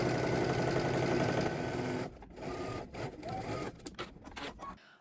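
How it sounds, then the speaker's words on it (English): A domestic sewing machine stitches the side seams of a garment at a 5/8-inch seam allowance, running in a steady continuous whir for two seconds, then in shorter stop-and-start bursts close to the microphone. "All right, let's head to the sewing machine. We're going to stitch both side seams using 5/8 of an inch seam allowance."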